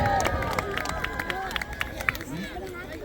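A crowd at a medieval festival at Arundel Castle keeps cheering and clapping. Sharp scattered claps and shouts rise over a talking voice and fade toward the end.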